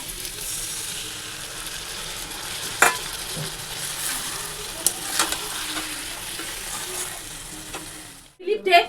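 Poppy seed paste added to small potatoes frying in a pan gives a continuous close sizzle with scattered pops and spatter, ending in a brief clatter.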